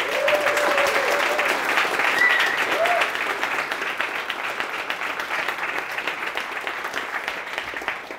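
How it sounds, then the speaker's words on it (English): A room full of people at a coding bootcamp demo day gives a sustained round of applause, even clapping at moderate volume with a couple of brief whoops early on. "you deserve a big round of applause"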